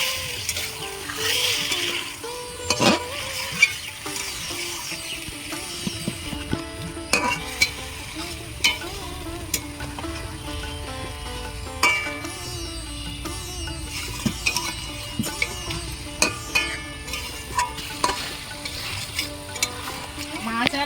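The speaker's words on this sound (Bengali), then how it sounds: "এবারে এইভাবে কষিয়ে নেবো কিছুক্ষণ" Marinated katla fish pieces and potatoes sauté in a pan, giving a continuous sizzle with frequent metallic scrapes and knocks of a spatula stirring against the pan, fairly close, with no speech.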